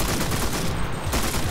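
Dense, continuous gunfire close by in the video game Enlisted, rapid overlapping shots forming a steady fusillade with no pauses.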